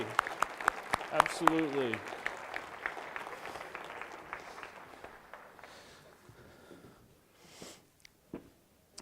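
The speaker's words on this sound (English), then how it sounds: "applaud for our challengers" Applause at a symposium innovation panel as challengers are called up, with sharp individual claps over a crowd patter that thins and fades, and someone speaking briefly.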